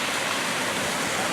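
Garden play-area water feature pouring and splashing at an arboretum, a steady dense hiss of falling water, close and continuous with no pauses.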